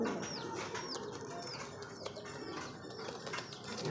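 Large pigeons in a loft, a male and a female, give repeated short calls at a steady pace over constant background noise.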